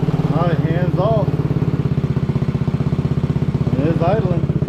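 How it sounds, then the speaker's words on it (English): A Maddog Honda Ruckus clone scooter with a big bore kit idles close by with a steady, rapid pulsing chug, while a person talks over it. "It is idling."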